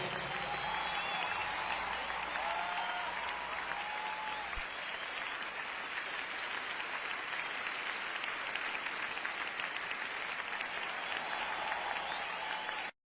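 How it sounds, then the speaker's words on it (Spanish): Continuous applause from a congregation at a devotional service, an even, sustained wash of clapping with a few faint whistles, heard at a moderate distance and cutting off abruptly at the end. "Dale a Cristo ese aplauso"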